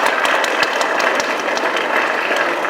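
Steady, loud applause fills a political rally for the 21st general election campaign launch, a dense unbroken wash of clapping throughout with scattered sharper claps standing out.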